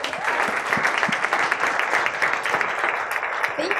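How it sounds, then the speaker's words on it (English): A forum crowd at Atlanta Tech Village gives a speaker a round of applause, with continuous, fairly loud, dense clapping for nearly four seconds. "So let's give a big round of applause to Christine."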